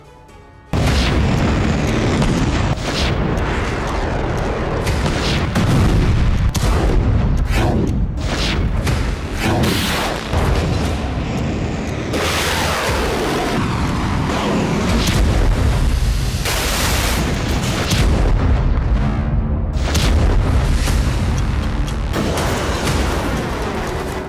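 Missile and rocket strikes from Hezbollah attacks on Israel in news footage: a continuous, loud barrage of heavy booms and rumbling blasts that keeps going for the whole stretch, with no voices.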